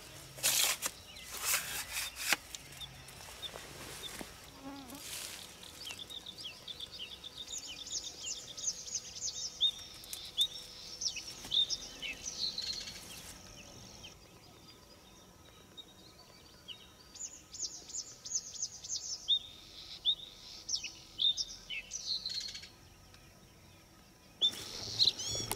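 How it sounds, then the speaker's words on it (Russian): Birds sing at a misty lake at dawn, with bursts of high chirps and warbles coming in clusters at a moderate distance, while occasional rustling and handling noise sounds close by. "Птицы поют."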